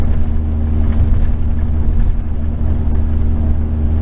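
A V10 Ford E350 van engine drones steadily as it climbs a long mountain grade in overdrive, a loud, continuous low hum with road noise and no talking.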